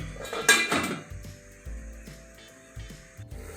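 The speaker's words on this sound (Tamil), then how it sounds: "இப்போ மூடி போட்டு ஒரு 5 நிமிஷம் மூடி வச்சிடலாம்." A metal lid is set onto a cooking pot of South Indian drumstick theeyal, giving one sharp clank that rings briefly, then a few lighter knocks and faint clinks nearby.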